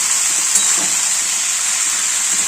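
Pumpkin stems sizzle gently in a pan with poppy seed paste, a steady soft hiss of frying with faint stirring, close and continuous with no voices.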